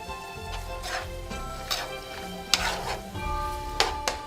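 Chopped celery and green peppers are stirred in a pan and sizzle quietly, with scattered scrapes and taps of the utensil against the metal.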